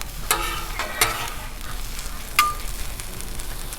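Chorizo and eggs sizzling in grease on a Blackstone griddle, with a steady frying hiss under a few sharp spatula scrapes and clinks as everything is mixed together, close and alone.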